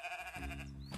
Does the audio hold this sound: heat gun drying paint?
no